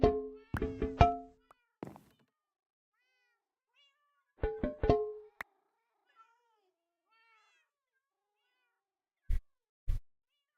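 Cats in the Minecraft GTNH modpack meow in short clustered bursts, several rapid meows at the start, another cluster midway and two brief ones at the end, separated by silence.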